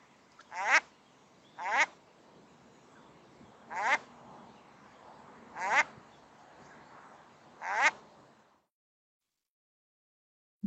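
A duck gives five short, nasal, rising flight calls at night, evenly spaced and fairly faint against quiet background noise, then silence.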